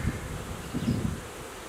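Honeybees hum around a hive raising drawn queen cells late in the day, a continuous low drone with a few louder swells as bees pass near, some wind rustle mixed in.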